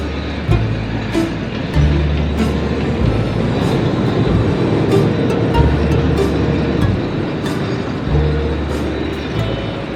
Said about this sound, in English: there's another train coming through